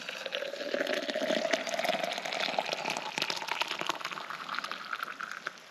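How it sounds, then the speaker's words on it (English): Hot water poured into a French press while making coffee outdoors, a steady liquid gurgle and splash running for several seconds at close range with no talk. "Pour your hot water in."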